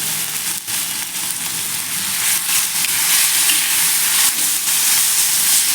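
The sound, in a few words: tempering (tadka) frying with asafoetida for green tomato thecha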